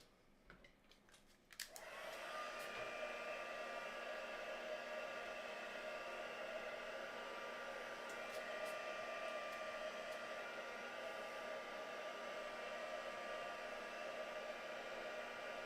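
A hair dryer blows over wet paint on a craft project, starting abruptly after a brief rustle and then holding a steady, even whine and rushing hiss.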